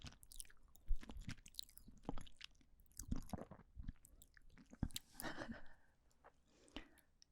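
Food is chewed close to the mic in an ASMR-style setting, with moist, crunchy bites and mastication in uneven bursts, quiet and intimate, with no speech.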